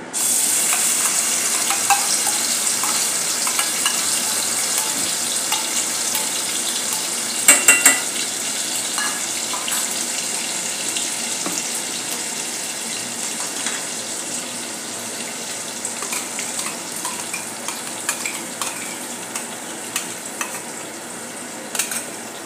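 Ground masala paste for dum aloo gravy sizzles in hot oil with asafoetida and is stirred in a pan; a steady fry hiss runs throughout, with a few sharp clinks of the spoon against the pan.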